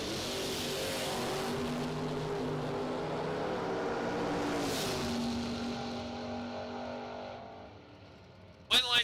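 A second-generation Chevrolet Camaro drag races at dusk in Ferris, Texas, its engine a sustained loud roar that swells and then fades, with an announcer speaking over it.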